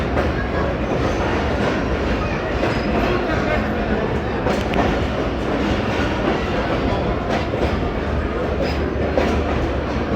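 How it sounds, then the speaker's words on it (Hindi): The 48 Down passenger train pulls into Rawalpindi station with a steady, loud rumble and clatter of rail cars that fills the whole stretch, some faint voices mixed into the din. "पे 48 डाउन का रावलपिंडी में अराइवल हो रहा है 2:35 पे।"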